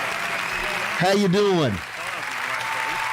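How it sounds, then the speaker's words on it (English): A studio crowd applauds and cheers for a superstar guest on a radio show, a sustained roar of clapping that a man's greeting briefly cuts through before the applause carries on beneath. "That crowd, I tell you, they just go on forever when they get a superstar in the house"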